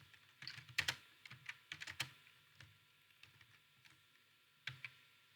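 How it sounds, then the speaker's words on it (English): Quiet keystrokes on a computer keyboard, irregular clusters of taps with short pauses between, close and clear with no talking. "so I'll just type added css style, click on enter"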